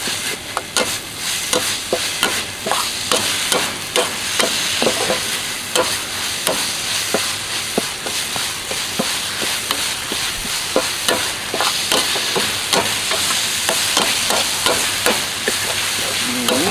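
Loud continuous sizzling from a wok, with rapid rhythmic scraping strokes of a spatula stirring the food throughout.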